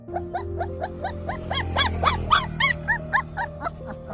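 A small, scared dog trapped between two pipes cries and whimpers in a rapid series of high, rising yelps, loud and close, growing more frantic midway before settling into shorter whines.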